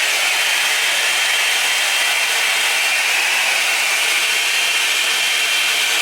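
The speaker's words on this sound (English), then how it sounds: "Next, I'm going to blow dry." A hair dryer blows steadily on a bone-straight middle-part 7x5 closure wig, a continuous close, loud broadband whoosh that holds even for the whole stretch with no talking.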